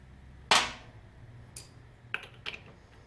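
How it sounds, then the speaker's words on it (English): A center bolt comes loose from a Lambretta scooter clutch with one sharp metallic crack, followed by a few lighter clicks of tool and metal, close and otherwise quiet. "now we just need to remove the center bolt."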